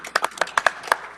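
Attendees at a village board meeting give a brief, sparse round of clapping, a handful of separate nearby claps in quick succession.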